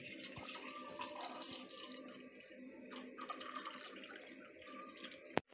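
Water runs steadily for several seconds as it is poured for an elderly mother at an old house, a continuous splashing flow with faint drips and one sharp knock near the end.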